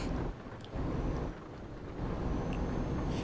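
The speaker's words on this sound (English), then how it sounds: "It's just the sound of the rain in the truck." Steady rain drums on a truck in a driving video game, a dense, continuous wash of noise over a low rumble, with no voices.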